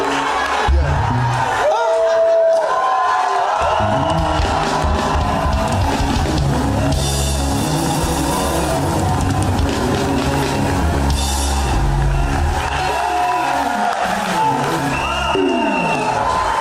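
A church congregation loudly cheering and acclaiming, a dense continuous roar of shouts, whoops and voices with music underneath, sustained throughout.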